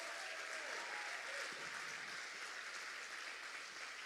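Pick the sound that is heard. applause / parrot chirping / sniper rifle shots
applause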